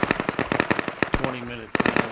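Rapid, sustained bursts of automatic gunfire come from bots in the video game Deadside, firing in a dense, crackling rhythm with only brief gaps. A voice talks over part of the shooting.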